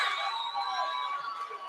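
Spectators cheering at a high school wrestling dual between Minerva and Carrollton, a steady mass of shouting voices and high yells held at a constant level for under two seconds.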